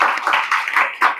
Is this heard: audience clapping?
yes